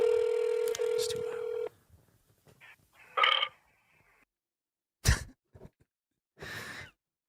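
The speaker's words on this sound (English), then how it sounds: "Did you just belch into my ear?" A short, loud belch right into the mic over a phone call, following a stretch of phone dial tones, with a few faint murmurs and another rough burst later.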